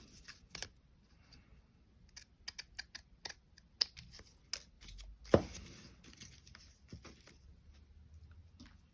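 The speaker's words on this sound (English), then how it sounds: "Maybe I'll go with my fancy scissors." Scissors snip paper in a series of short, sharp cuts with small rustles between, close and quiet, with one louder clack partway through.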